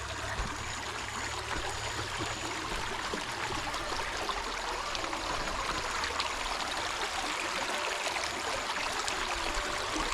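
A small river rushes and gurgles steadily at close range during a crossing on foot along the Narmada pilgrimage walk, a continuous broadband wash of flowing water with no voices.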